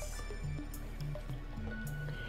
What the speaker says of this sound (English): I'm just going to carefully pour out the herbs.